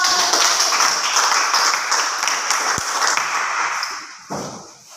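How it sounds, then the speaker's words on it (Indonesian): Classroom applause after a student group presents during a teacher-training practice lesson, a steady wash of clapping from a small group that holds across the whole moment and tapers off at the end, with no talk. "Tepuk tangan."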